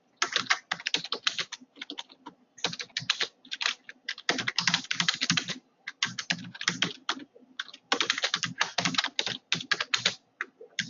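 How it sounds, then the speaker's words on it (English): Rapid clicking of keys on a computer keyboard, coming in steady bursts with short pauses between them, close and fairly quiet. "Suppose I'm typing"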